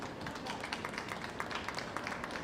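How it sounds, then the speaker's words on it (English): A round of applause from spectators at a school athletics championship stadium, scattered claps spread across the full stretch at a moderate, somewhat distant level with no voices over it. "Once again, a round of applause, thanks, ladies and gentlemen"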